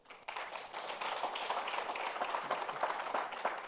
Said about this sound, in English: We really need a round of applause.